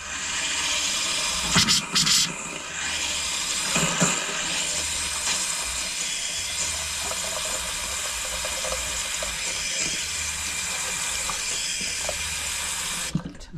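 Hot water runs from a tap in an RV trailer during de-winterizing, a steady broadband rush lasting the whole stretch, with a few clunks and spurts near the start and a sharp stop at the end.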